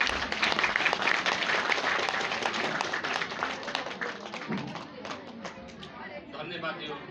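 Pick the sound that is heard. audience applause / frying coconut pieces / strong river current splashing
audience applause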